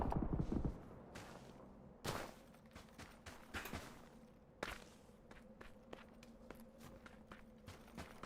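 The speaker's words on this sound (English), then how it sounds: "I thought I heard someone else's footsteps." Footsteps sound in the PUBG video game, a run of close, crisp steps in an irregular rhythm with a few sharper impacts standing out, fairly quiet overall.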